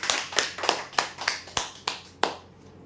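Audience clapping for a prize winner at a weekly lucky draw event, a series of about seven sharp, evenly spaced bursts of claps, each fading before the next, then quiet.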